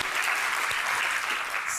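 An audience at a Broadway performance event claps in a brief, dense, continuous burst, with no voices on top.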